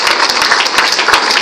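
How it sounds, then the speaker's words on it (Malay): Audience applause in a hall during a product talk, a brief, loud, dense burst of many hands clapping close by, with no talk over it. "Tepukan untuk Alkun Spirulina"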